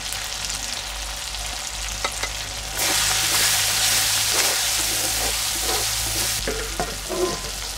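Tomato, ginger and chilli, turmeric and cumin powders frying in a pan for a vegetarian jackfruit curry, producing a close continuous sizzle that flares louder midway, with intermittent scraping stirs and no speech.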